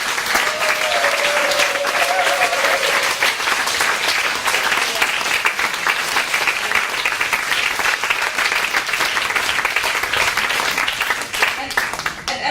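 A crowd at a panel discussion on women's participation in peace talks claps continuously and loudly, dense sustained applause filling the whole stretch with a brief voice near the start.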